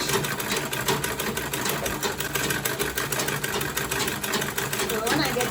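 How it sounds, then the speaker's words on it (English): A sewing machine stitching a quilted tote bag, a continuous close, rapid mechanical whirring rattle at a steady pace, with a person talking over it. "So I'm just going to be sewing on that line."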